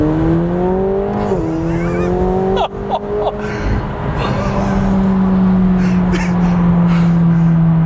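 A McLaren 720S sports car accelerates on a road, its engine note rising in a loud, sustained drone heard from inside the cabin, with a brief dip midway as the pitch shifts before climbing again.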